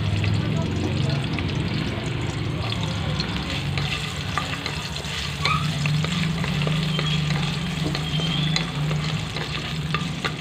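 Ginger sizzling in about three tablespoons of hot cooking oil for a crab coconut stew, a steady dense crackle and hiss throughout, close and continuous.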